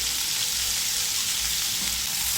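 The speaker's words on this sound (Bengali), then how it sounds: "প্রায় তিন চার মিনিট সময় নিয়ে কুমড়োগুলোকে লালচে করে ভেজে নেব" Pumpkin pieces fry in hot oil over a high flame, seasoned with salt and turmeric, giving a loud, continuous, close sizzle with no voices.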